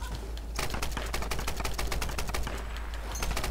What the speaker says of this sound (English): Alright, assault rifle still sucks.